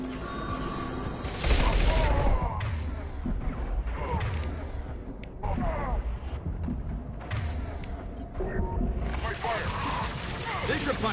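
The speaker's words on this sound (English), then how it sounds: "Taking heavy fire." Dense, sustained gunfire from a Mass Effect 2 battle, loud bursts and rattling shots rolling almost continuously with heavier surges, while voices and radio chatter talk through the action.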